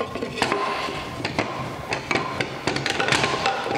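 Pin nailer driving pins straight down into RTA kitchen cabinet sides held in a clamp jig, giving a quick series of sharp, close taps and clicks over light workshop noise.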